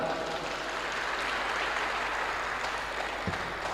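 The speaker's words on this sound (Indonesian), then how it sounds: "Tepuk tangan" Audience applauding at a school event for SMK Negeri 1 (Stemba) alumni and partners, an even, hissing wash of distant clapping held steady throughout, with one brief low thump near the end.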